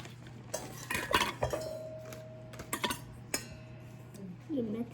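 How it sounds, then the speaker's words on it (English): A utensil mixes chocolate donut batter in a bowl, making several close clinks and scrapes against the bowl in irregular bursts over a quiet background. "And you mix it together."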